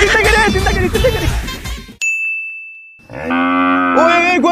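On a farm, a loud cow moo is mixed with shouting voices and ringing bell-like tones; a bright sustained ding follows, then a long, drawn-out low moo close by.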